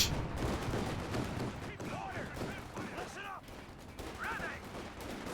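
Gunfire crackles through a Company of Heroes 2 battle between German forces and a US half-track, with dense overlapping shots and bursts sustained across the clip under ongoing commentary.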